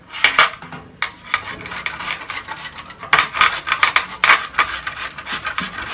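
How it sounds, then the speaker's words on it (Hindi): White radish (mooli) is rubbed across a kitchen grater in quick, repeated rasping strokes, close and crisp, with a brief pause midway before the scraping resumes. "और इसको कद्दूकस करेगा।"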